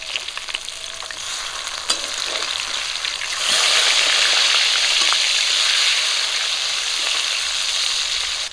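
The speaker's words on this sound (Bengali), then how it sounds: "মাছগুলো এক পিঠ করে ভাজা হয়ে গেছে, উল্টে দেব।" Rohu fish pieces frying in hot oil give a steady sizzle with small crackles and pops; it swells louder midway, as if the pieces were just turned, then settles into a continuous hiss.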